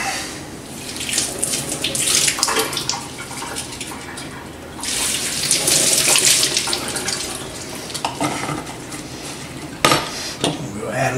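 Tap water running and splashing in a sink while something is rinsed, with clattering of dishes and a short burst of louder spray.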